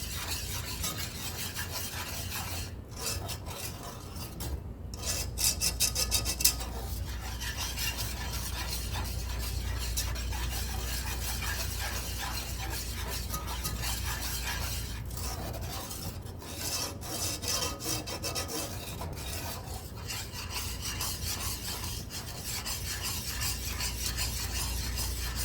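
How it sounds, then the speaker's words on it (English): A whisk scrapes and stirs steadily through a thickening cream sauce with xanthan gum, a continuous soft rasping swirl with a few brief pauses, close and fairly quiet with no voices. "I can tell I need to get that xanthan gum a little bit more whisked up in there"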